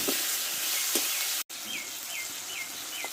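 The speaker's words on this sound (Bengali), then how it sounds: "একটা ছোট সাইজে টমেটো দিয়ে দেবো স্বাদ মতো লবণ দিয়ে দেবো টমেটোটা একটু ভালো করে কষে নেবো" Tomato with salt fries in a hot pan, producing a steady close sizzle with a few soft stirring scrapes and a brief break partway through, no voices.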